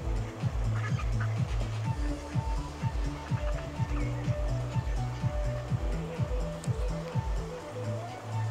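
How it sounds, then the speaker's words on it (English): Ducks and ducklings at the River Hodder near the stepping stones at Dunsop Bridge, Lancashire, quack in a rapid, steady rhythm over the constant rush of flowing water, fairly close and loud. "These little ducklings were very cute, and there's a little girl feeding them with her mom."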